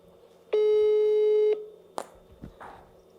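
A telephone tone when calling a railway station's lost and found, one steady electronic beep lasting about a second, close and clear, followed by a couple of faint clicks and handling noises.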